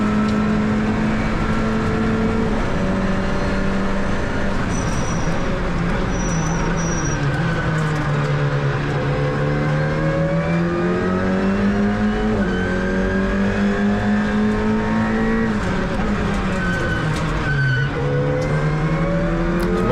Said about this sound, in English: the gearbox is a sequential gearbox with straight cut gears, so that's why it's making so much noise.